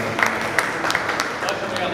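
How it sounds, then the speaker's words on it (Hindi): Audience applause at a mushaira poetry recital in Dewas, a broad wash of scattered clapping with a few louder claps standing out, steady and moderately loud under a murmuring crowd. "एक बार जोरदार तालियों बजा के इस्तकबाल कीजिए"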